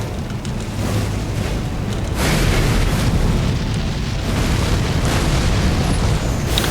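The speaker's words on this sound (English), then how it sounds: "He likes to do a lot of follow-up explosions to his attacks." Repeated booming explosions from a boss's follow-up attacks in the video game Elden Ring, loud and dense, rumbling continuously with bursts swelling stronger midway and lasting throughout.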